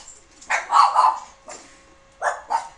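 Pet dogs barking inside a room during a wrestling game session: several sharp barks in clustered bursts, fairly close and loud, with brief quiet gaps between them and no talking.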